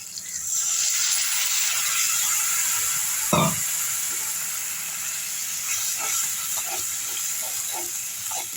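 A pot of tamarind curry (vatha kuzhambu) bubbles and hisses steadily at a boil, a constant close rush with one sharp knock and faint pops later on.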